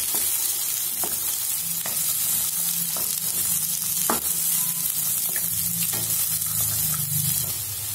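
Cauliflower and green peas fry in a kadhai for gobi bhurji, making a loud, steady sizzle close up, punctuated by regular spatula scrapes and knocks about once a second, with no talking.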